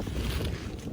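Steady, loud wind in Birmingham buffeting the microphone with a low rumbling roar, no talking.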